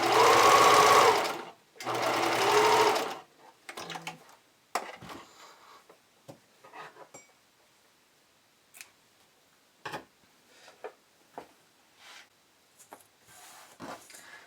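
A sewing machine runs two loud bursts of zigzag stitching, attaching elastic to lightweight bamboo or rayon fabric for hipster panties, followed by quieter scattered clicks and small handling sounds.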